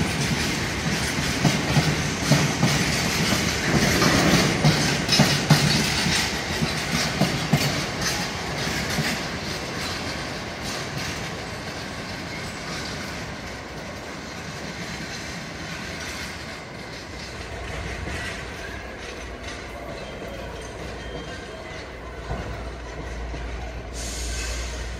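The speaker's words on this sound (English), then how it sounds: "Freight train's going a bit quicker now." A freight train passes at speed through Nottingham station after dark, a loud continuous rumble with clattering wagons and wheel noise that gradually fades to a lower roll.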